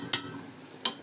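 Pasta frying in hot oil in a pot while cooking Egyptian koshari, with two short bright bursts of sizzling and stirring over a steady quiet hiss.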